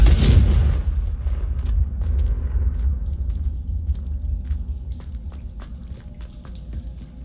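A Confringo spell explosion in Hogwarts Legacy opens with a loud, deep boom that rolls into a long fading rumble, scattered with small crackling debris sounds as it dies away.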